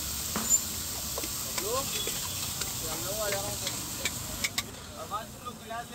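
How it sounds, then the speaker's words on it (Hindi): A whole pot of peas tipped onto a hot tawa griddle at a Mumbai street stall making tadka chole kulche, a loud sizzling hiss with scraping clatter while voices talk nearby. "पूरा पतीला भर के मटर निकाल लिए गए हैं और वो तवे के ऊपर डाले जा रहे हैं"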